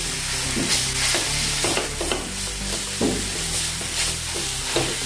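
Spice masala with red chilli powder and black salt roasting in a pan for kachori filling, a steady close sizzle broken by repeated scraping stirs, with continuous background music.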